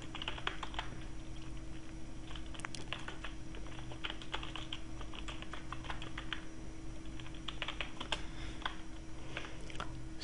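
Rapid, steady typing on a computer keyboard while writing jQuery code, a dense stream of close, crisp key clicks over a constant low hum, with no talk.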